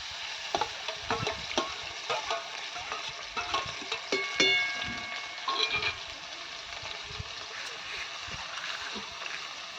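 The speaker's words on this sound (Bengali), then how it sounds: "এবার আমি সর্ষে আর লঙ্কা একসাথে বেটেছি, সেই বাটাটা দিয়ে দিচ্ছি।" Mustard and green chili paste frying in a pan for a red Malabar spinach stem curry, a steady sizzle with scraping stir strokes and clinks, close and fairly loud throughout.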